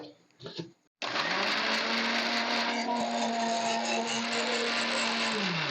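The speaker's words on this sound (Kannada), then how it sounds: "ಇವಾಗ ಇದನ್ನ ಮಿಕ್ಸಿಗೆ ಹಾಕೊಂಬಿಡೋಣ" After a second of light clattering, a mixer grinder whirs to life with a loud, steady motor whine that runs without pause.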